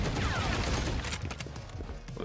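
Gunfire crackles in the tactical shooter Valorant, with a dense run of quick shots in the first half that thins into scattered, lighter pops.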